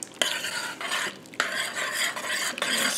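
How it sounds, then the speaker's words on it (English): Tomato paste is stirred into thin peach salsa in a crockpot slow cooker, making close, repeated scraping and swishing strokes with a few sharp spoon knocks against the pot. "Stir that around"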